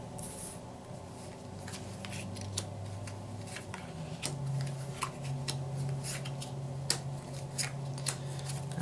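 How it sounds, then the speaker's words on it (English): Werewolf game cards are dealt face down onto a table with a run of quick, light taps and soft slides, close and steady, over a low background hum. "So you would pass out the cards face down."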